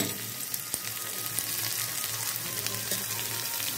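Chopped onion and garlic fry in hot oil in a wok on low gas, a soft continuous sizzle with small crackles close by, steady throughout with no talking.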